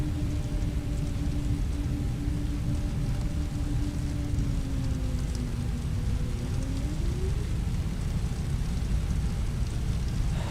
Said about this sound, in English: out of nowhere it just started raining